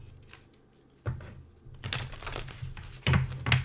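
Papery shuffling and crinkling of cards, starting softly and growing busier, with a couple of louder riffles near the end; close up, no talking.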